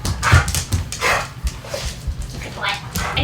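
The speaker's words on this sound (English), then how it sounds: "We got to hear a bark today." Dogs at an animal shelter bark in a string of short, loud yips and woofs, some whimpering, close by while people talk over them.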